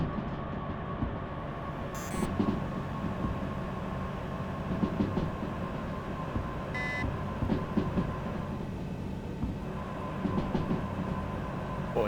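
A locomotive rolls along rails in the train simulation game Derail Valley, with a steady rumbling drone and rhythmic wheel clatter, plus a couple of brief electronic beeps partway through.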